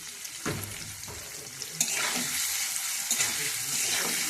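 Paneer with salt and turmeric fries lightly in a pan, giving a close, steady sizzle broken by the clatter and scrape of stirring.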